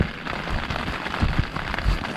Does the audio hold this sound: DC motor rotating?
no